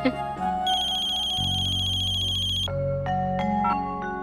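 A phone ringtone plays steadily and loud for about four seconds, a bright electronic melody that shifts pitch partway through, with no one speaking.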